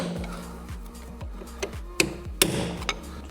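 A big hammer strikes a corroded rear shock absorber bolt on a Land Rover Freelander 2, giving a few sharp, close metallic blows at irregular intervals over a steady low rhythmic ticking.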